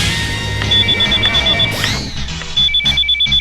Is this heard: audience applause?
no